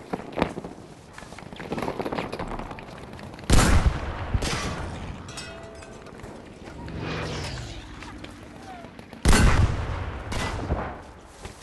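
Gunfire in the video game Battlefield V during Pacific combat, scattered shots with two heavy close blasts standing out and softer distant firing and movement in between.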